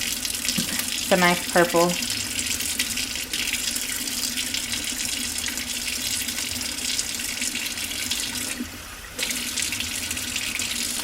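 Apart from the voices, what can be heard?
tap water running while rinsing bleach off a wig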